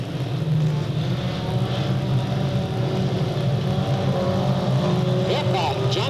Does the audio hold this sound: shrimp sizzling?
no